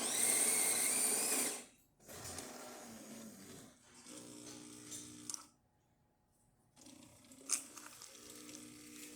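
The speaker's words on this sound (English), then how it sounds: "So I'm just going to brew a shot and show you that the machine is brewing coffee now." Jura Ena 8 espresso machine brewing a shot after a full service, with a loud mechanical whir and grinding at first, then pulsing pump drone and gurgles broken by short quiet gaps, close up.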